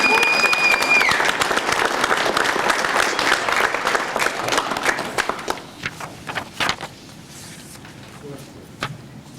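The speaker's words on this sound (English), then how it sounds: "one more round of applause for all of these graduates for all the hard work that they've done to get to this point" Graduation-style crowd applause at a radiologic technology student pinning ceremony, loud and dense at first, then thinning into scattered individual claps as it dies away, with a brief tone near the start.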